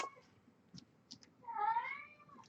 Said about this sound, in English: He's a very noisy kitty.